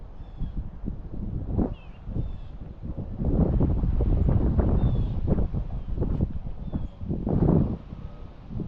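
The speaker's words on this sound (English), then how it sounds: "It's awful windy out here." Gusty wind rumbles across the microphone in uneven bursts, swelling strongest in the middle, with faint bird calls high above.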